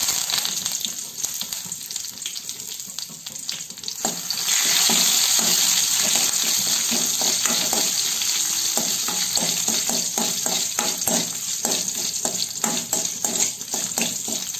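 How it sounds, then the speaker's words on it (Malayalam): Curry leaves and dried red chillies hit hot oil with browned fenugreek for a pachadi made with green grapes, erupting into a loud, dense, close sizzle that stays strong and crackling, with faint stirring clinks throughout. "ഉലുവയൊന്ന് ബ്രൗൺ നിറമാവുമ്പോൾ നമ്മുടെ കറിവേപ്പിലയും വറ്റൽ മുളകും ചേർത്ത് കൊടുക്കാം"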